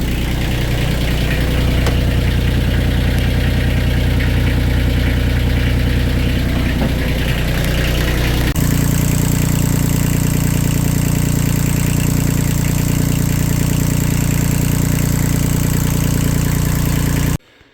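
An engine idles steadily and loudly, its low rumble unbroken, shifting to a slightly different tone midway before cutting off abruptly at the end.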